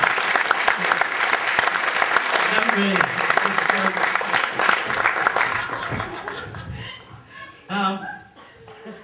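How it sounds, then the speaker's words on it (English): Audience applause for a comedian's mother at a live stand-up comedy show, loud sustained clapping for about six seconds that fades into scattered laughter and brief talk. "give her a round of applause"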